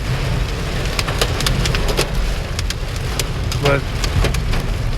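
Heavy tornado-warning rainstorm with small hail in Fort Worth, Texas, heard from a garage: a dense steady roar of rain with sharp scattered hail ticks and knocks, and someone speaking briefly.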